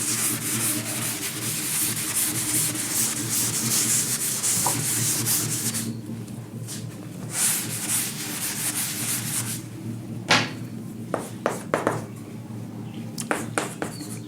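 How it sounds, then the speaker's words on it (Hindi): A diagram is rubbed off a classroom board, a steady close scrubbing that runs for several seconds, then gives way to a few brief taps and quieter rubbing. "इधर मैं इस डायग्राम को रब कर देता हूँ।"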